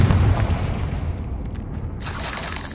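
Confringo fire spell blast in the Hogwarts Legacy video game on PS5, a loud booming explosion with a rumbling tail that fades under a steady crackle, heard alone without speech.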